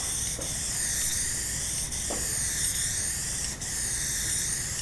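RaggTopp fabric protectant hisses steadily from a spray bottle onto a convertible fabric top, a close, continuous soft spray with faint breaks between strokes.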